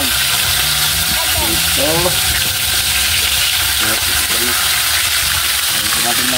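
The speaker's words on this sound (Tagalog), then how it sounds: "So, magprito na po tayo mga idol." Galunggong fish fry in hot oil with a loud, constant sizzle and crackle close by, while someone speaks over the frying.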